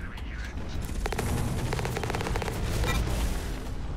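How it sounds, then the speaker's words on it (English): Mechs firing on each other in the game Hawken, rapid rattling bursts of gunfire that rise and persist over a rumbling, noisy battlefield, with a voice talking over them. "Oops, somebody's shooting me from over there."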